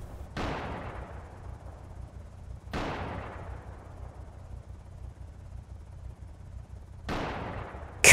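Three sharp, loud gunshots in the zombie survival game Project Zomboid, spaced several seconds apart, each ringing out into a long fading echo tail with quiet background between.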